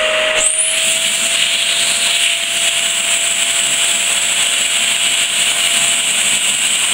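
A vacuum cleaner sucking air from a storage bag roars steadily and loudly up close, with a high whine and airy hiss that hold constant throughout, no talking.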